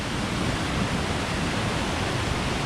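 Murundao waterfall on Flores and its swollen, muddy river roar in a loud, continuous broadband rush that fills the whole clip without pause.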